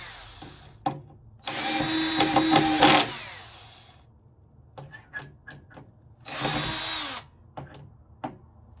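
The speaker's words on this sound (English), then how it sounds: "So let's try the drill." A power drill drives screws into a Veikous raised garden bed, with two loud whirring bursts of about one and a half seconds each, separated by clicks, taps and handling noise close by.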